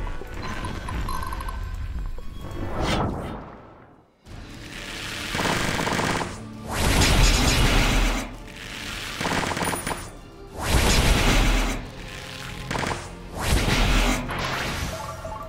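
Bursts of gunfire and heavy impacts from a battle in the strategy game Symphony of War, loud rapid volleys and crashing hits arriving in repeated waves with brief lulls between.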